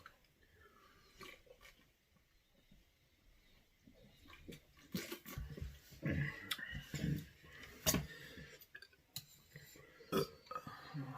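A person burps during a late-night meal of homemade tacos, several gurgly belches and chewing noises mixed with some talk, close and fairly quiet.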